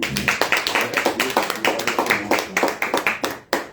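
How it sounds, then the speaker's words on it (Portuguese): A church congregation claps in a steady, rapid rhythm during a worship service, loud and close, with a brief pause near the end before the clapping resumes. "Dá a oportunidade às palmas ao Senhor."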